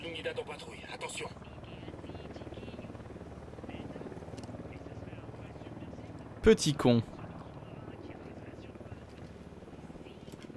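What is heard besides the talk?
patrolling helicopter in video game Ghost Recon Wildlands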